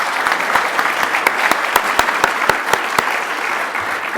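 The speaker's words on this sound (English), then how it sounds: "How about a quick round of applause for all of our speakers?" A small audience claps for the speakers after a data management talk, a few distinct sharp claps standing out over a steady patter of applause.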